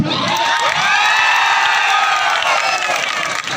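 Spectators at a state-level kabaddi final roar and cheer with some clapping, a dense, loud crowd noise holding steady throughout with shouts and whoops mixed in.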